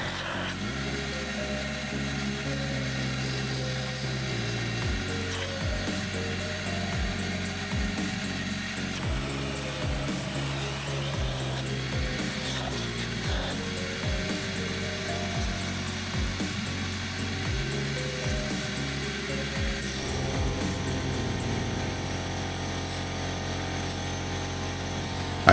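Continuous harsh hiss and mechanical drone of walnut media blasting cleaning the intake valves on cylinders 2 and 5 of a Porsche Macan engine, steady and loud with shifting tones and no pauses.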